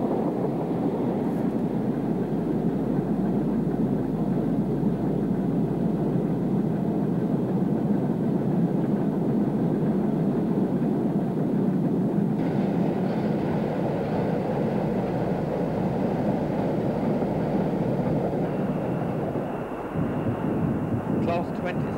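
A Peak class diesel locomotive hauls a British coal train with a steady heavy engine rumble and rolling wagon noise, a continuous loud drone lasting throughout with little change.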